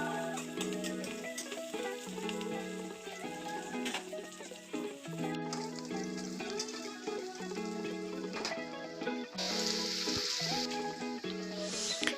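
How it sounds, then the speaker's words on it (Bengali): Onions frying in a pan for chilli chicken, a steady sizzle running the whole time under strong background music, with no talk. "পেঁয়াজটা ভাজতে ভাজতে পেঁয়াজের কালারটা একটু বাদামি বাদামি হবে।"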